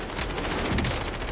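Dense burst of gunfire from Call of Duty: Warzone, a continuous fusillade of shots packed together over a second or so, loud and close with no talking.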